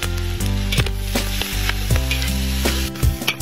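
Strips of blanched pig skin fry in a pan with soy sauce, a loud close sizzle broken by repeated clanks and scrapes of a spatula stirring, no talk.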